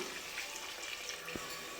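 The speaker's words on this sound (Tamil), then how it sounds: "இப்போ இந்த கறி வேகிறதுக்காக கொஞ்சம் ஊற்றிடலாம்" Water being poured into chicken curry in a cooker while preparing chicken biryani, a steady, faint splashing pour heard close by with no talking.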